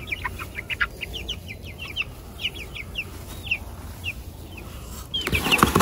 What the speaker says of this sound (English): And we think we have two roosters.